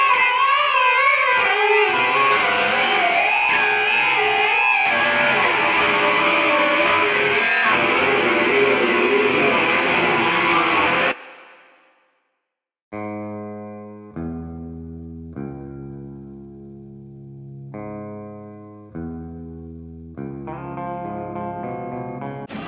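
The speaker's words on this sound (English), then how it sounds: "Is it okay if I get loud for a second?" A Skystang I electric guitar played loud through distortion and effects: a dense, sustained roar for about eleven seconds, a brief silence, then ringing, separately struck chords and notes, with no voices.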